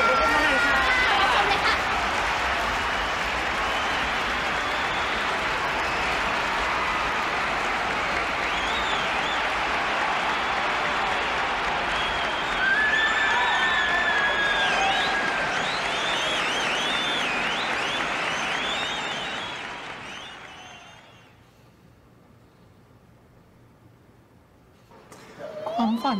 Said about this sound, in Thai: ขอเสียงปรบมือให้พวกเขาหน่อยค่ะ